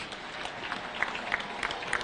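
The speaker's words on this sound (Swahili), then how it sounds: "A hand clap as we cut this cake" Applause during the cake cutting at a Kenyan boys' high school centenary celebration attended by the president, a steady distant patter of hand clapping from a crowd with a few louder claps standing out.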